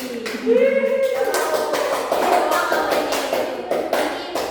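A classroom of students claps for a classmate named Tiwi, a scattered burst of hand claps and taps that follows a brief voiced sound, moderately loud, with some shuffling mixed in.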